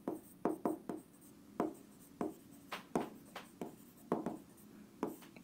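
A teacher writes on a board during a physics lecture, making quiet, irregular strokes and taps with short scratching bursts and brief pauses, no talking over it.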